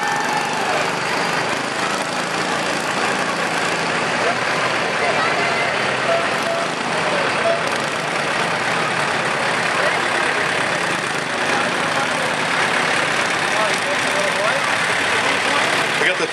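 A truck from New Boston Truck and Equipment rolls through the center of town in a Fourth of July parade, its engine a constant loud, rough rumble mixed with dense outdoor noise throughout.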